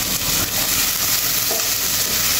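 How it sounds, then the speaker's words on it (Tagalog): Ginger, onion and tomato sautéing in a pan as the base for salmon sinigang, a loud, close, continuous sizzle with a dense crackling hiss and no talking. "ginisa muna natin mga katiyoy yung ating luya, sibuyas at kamates"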